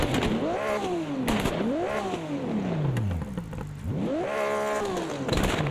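An old Porsche 911 engine in the racing game AMS 2 revs repeatedly, each rise climbing and falling in pitch in a rhythmic pattern of roughly three blips, loud and close with no talk.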